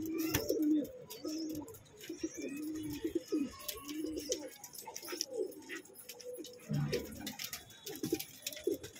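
Low rolling coos from many pigeons fill a high-flyer loft of Allahabadi and Saharanpuri birds, rising and falling in bursts with faint chirps and soft rustling, heard up close without pause.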